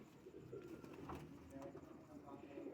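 Lal Pari pigeons coo softly in low, rolling calls, faint and close, with someone talking at times over the birds.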